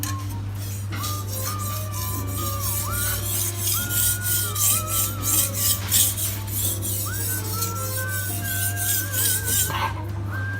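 A kitchen knife is worked over a sharpening stone in a London kitchenware shop, giving a steady run of raspy grinding strokes in an even back-and-forth rhythm. Soft background music and a low hum play underneath.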